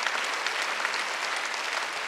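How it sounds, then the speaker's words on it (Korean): Congregation applauding in a church during a Wednesday worship service, a steady dense wash of many hands clapping at once, moderately loud and continuous without letup. "박수 쳐주세요."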